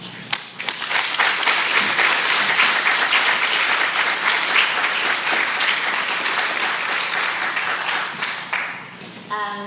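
A lecture audience at the 13th Frith Prize Lecture breaks into loud, sustained applause for the prize-winning speaker, a dense wash of many hands clapping that stays steady throughout and begins to thin at the very end.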